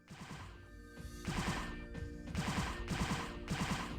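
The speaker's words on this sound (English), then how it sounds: "it actually shoots like a mech gun, but has a handgun animation" The Last Swan handgun from Phantasy Star Online: Blue Burst fires in quick repeated bursts like a mech gun, with clusters of rapid shots coming in short volleys over a humming game background.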